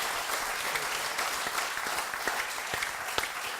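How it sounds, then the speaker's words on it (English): An audience at a Startup Grind Bali event applauds steadily for several seconds, many hands clapping together in a dense, even patter. "can we give him a round of applause for those ideas?"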